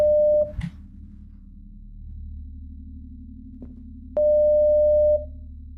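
A failed phone call in the horror game Home Sweet Home: two long, steady electronic tones, each about a second, separated by a quiet gap with a low hum and faint clicks, clean and close.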